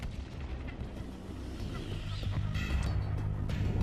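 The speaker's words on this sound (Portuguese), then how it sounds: "A explosão do impacto foi equivalente à força de 1000 bombas de Hiroshima." Asteroid impact explosion over arid land, a fragment 24 meters across: a deep rumbling boom with crackling bursts that swells louder toward the end, loud and close with no talk.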